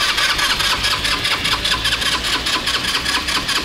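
Vehicle engine cranking with rapid rhythmic pulses, failing to catch, inside a rubbish-strewn garage in the Siwa oasis of the Egyptian desert; loud and close, a steady churning with no talk over it.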